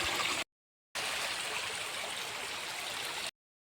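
A natural mountain spring stream in the hills gives a steady, soft rushing trickle, cut by two brief silent gaps, with no voices.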